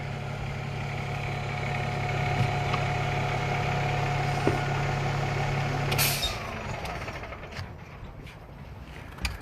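A ladder fire truck engine idles with a steady low hum, then shuts off with a hiss of air, leaving quieter ambient noise.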